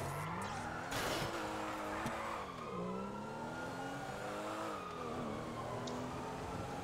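A car in GTA V revving and accelerating with tires squealing through skids, engine pitch climbing and dropping across shifts, steady and close, heard alone at fairly low level.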